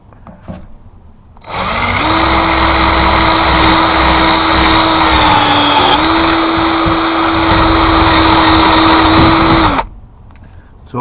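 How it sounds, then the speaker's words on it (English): A power drill whirs steadily for about eight seconds at close range, drilling holes in a Winnebago LeSharo RV, its motor pitch dipping briefly midway, then stops abruptly. "It's also good to use a bit of cutting oil when you're drilling holes."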